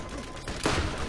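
Short burst of gunfire in Borderlands, a loud close shot or two over a steady background hum, lasting only about a second.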